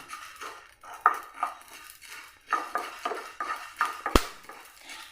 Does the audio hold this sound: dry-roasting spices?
yes